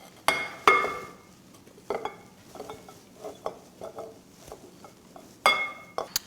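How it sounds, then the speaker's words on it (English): Spoon stirring a gluten-free Christmas pudding mixture in a bowl, a series of sharp knocks and scrapes against the bowl at an uneven rhythm, close and clear with no talking. "Give that a quick stir."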